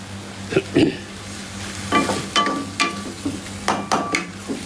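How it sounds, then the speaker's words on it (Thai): Curry paste sizzles and scrapes in a hot pan as a utensil stir-fries it in repeated strokes, close and moderately loud. "หอมพริกแกง แล้วคั่วให้มันหอม แล้วค่อยๆเติมน้ำนะ"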